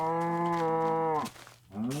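A cow in the Minecraft video game gives a long, loud, steady moo that breaks off, then starts again with a second, rising moo, heard alone without talk.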